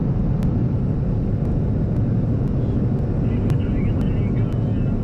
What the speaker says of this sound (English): It's a U-2 spy plane that requires a chase car to land.